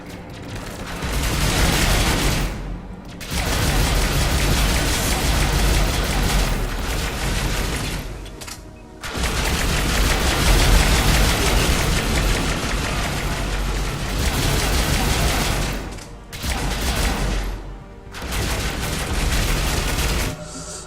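Sustained bursts of gunfire in the video game Mass Effect 3, loud and dense with booms and rapid shots, running in long stretches separated by brief pauses.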